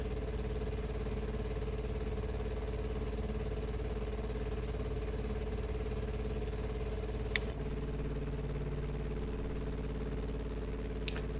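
A Piper J-3 Cub's small piston engine drones steadily in a flight simulator game, a continuous low hum with a slight sputtering texture and two brief clicks, with no talk over it.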